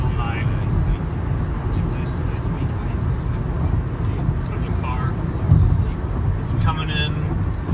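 Steady low road rumble from inside a car cruising a 55 mph highway at night, a constant engine and tire drone with faint higher squeaks drifting over it.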